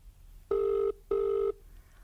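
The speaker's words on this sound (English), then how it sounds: "The phone rings and rings." A telephone rings twice in steady electronic bursts, each about half a second long with a short gap between, clear and close with no talking.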